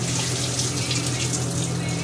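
Tap water runs hard over freshwater fish being rinsed in a kitchen: a loud, steady splashing stream that continues unbroken for a couple of seconds, with no voices.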